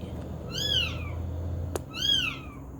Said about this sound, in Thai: ตื่นขึ้นมาแล้วก็ได้ยินเสียงร้อง ของ ลูกแมวเนี่ย